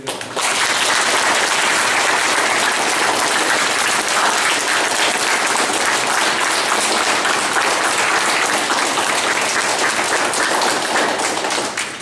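Steady, loud applause from a large crowd at a primary school event honouring a poet, continuous clapping that fills the whole stretch without pause.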